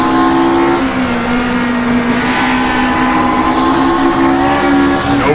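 A race car in rFactor 2 road racing drones loudly and steadily, engine pitch stepping down through gear changes with a brief drop early on, no voices present.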